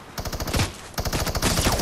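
Rapid minigun fire in Fortnite, two bursts of fast rattling shots close and loud, separated by a brief gap.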